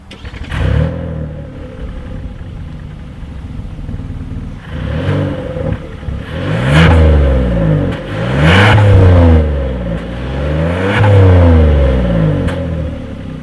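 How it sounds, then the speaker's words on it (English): A 2020 Kia Telluride's engine revs through its single exhaust outlet with dual tips, starting with a steady idle and then climbing in three or four loud, rising and falling bursts, each swelling and then dropping back down. "As always, here is that exhaust clip."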